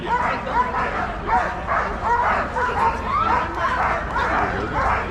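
Iditarod sled dogs bark, yip and whimper in a noisy chorus at the 2025 ceremonial start in Anchorage, Alaska, with the yelping continuous and mixed with crowd murmur.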